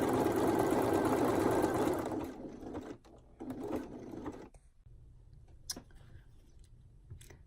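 A sewing machine stitches the side seams of a reversible scoop bikini in one steady, fast run that ends about two seconds in, followed by a few short, stop-start bursts and faint handling noises.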